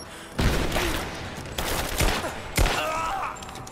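Gunfire in the video game Rise of the Tomb Raider comes in several sharp volleys, four distinct bursts spaced unevenly across a few seconds, each fading into echoing rumble.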